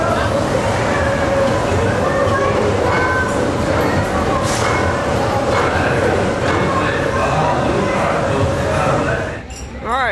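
Continuous loud rumble and rattle of a mine train roller coaster ride at Six Flags Over Texas, steady throughout with a dip near the end, with riders' voices mixed in.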